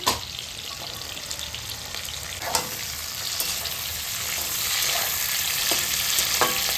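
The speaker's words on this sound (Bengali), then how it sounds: "তেল গরম হয়ে গেছে এখন আমরা দিয়ে দেবো ক্যাপসিকাম এখন দিয়ে দেবো পেঁয়াজের পাপড়ি গুলো" Capsicum and onion petals frying in hot oil, a steady close sizzle with a few sharp crackles and spatters building slightly louder toward the end, no voices.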